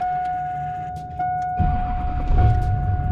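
The diesel engine of an early 2001–2002 Duramax pickup cranks and fires, low rumble swelling over a steady high whine from the cab's electronics, close by, with no speech.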